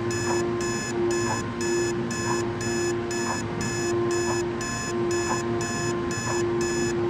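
A phone alarm rings in the morning, a regular pulsing pattern of bright beeps repeating about once every half second over a steady background hum, loud and continuous with no voices.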